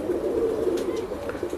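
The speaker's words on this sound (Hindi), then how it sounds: "कबूतर बहुत अच्छी नस्ल है ये कबूतरों की इनके।" Pigeons of a fine breed cooing steadily close by, a low continuous throaty murmur with a few faint higher chirps over it.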